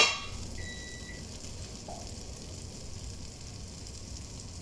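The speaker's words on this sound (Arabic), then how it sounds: "هجيب حتة زبدة اهي اسيحها" A piece of butter melting in a hot pan for chicken in coconut milk, a soft steady sizzle and hiss, quiet and close, with a faint tone briefly over it.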